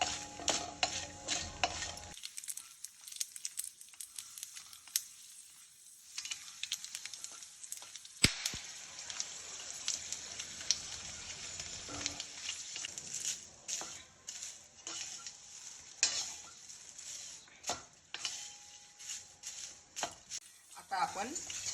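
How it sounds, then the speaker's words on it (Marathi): Mace, black cardamom and green cardamom frying together in hot oil for homemade onion-garlic spice masala, giving a steady soft sizzle with stirring and occasional clinks of utensil on pan, no talking. "त्यामध्येच आपण आता मसाला वेलदोडा आणि साधा वेलदोडा असे तिन्ही पदार्थ एकत्र तळून घेत आहोत।"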